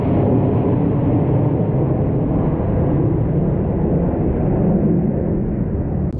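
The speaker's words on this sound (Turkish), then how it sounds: "çok şükür bir uçak müdahalesi yapıldı şu anda" Low, steady roaring drone of a firefighting aircraft flying over a forest fire near Köyceğiz, loud and continuous throughout with no talking.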